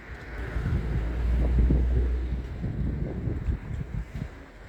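Wind buffets a microphone outdoors in a steady westerly, a low continuous rumble with gusts swelling and easing throughout, fairly loud and close with no talking.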